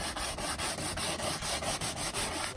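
A very sharp steak knife scores a laminate countertop from the back side, giving a steady, close scraping rasp with rapid repeated strokes throughout.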